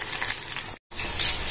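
Oil heating in a pan on a home kitchen stove, sizzling and crackling steadily at close range, broken by a brief silent gap partway through.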